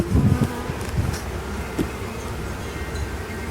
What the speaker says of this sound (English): Gotta be careful with your beehives.